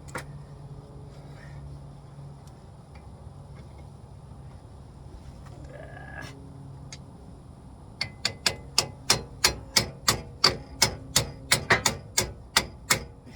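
Sharp metallic hammer strikes on a 2004 Chevy Tahoe wheel bearing ring out in a steady, fairly quick series of about a dozen blows, loud and close, over a low mechanical background hum.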